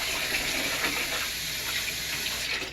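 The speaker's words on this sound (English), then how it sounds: "So I'm just gonna fill a little bit more up with water." Tap water runs steadily into a container being filled for soaking laundry cloths with a laundry booster, a continuous close gush with no talking.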